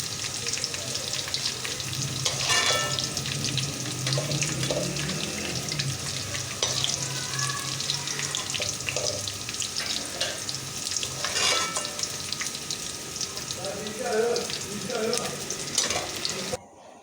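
Okra frying in very hot ghee in a pan for bhindi masala, a loud continuous crackling sizzle that runs without a break for the whole stretch, with no voice over it, then cuts off abruptly at the end.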